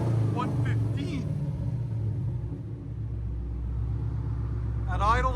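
Modified car exhaust idling at a car meet, a steady low rumble running throughout, with people talking over it near the start and end.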